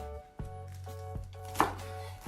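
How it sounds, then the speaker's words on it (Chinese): A kitchen knife chops scallions into fine bits on a board, a few sharp, separate blows spaced apart, close and clear over a low steady background hum. "我们接下来将葱切末。"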